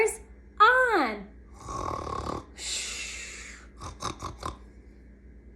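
A voice imitates a sleeping bear's snoring: a rising, drawn-out nasal snore followed by long breathy snorts and a short run of huffing breaths, close and loud against a quiet background.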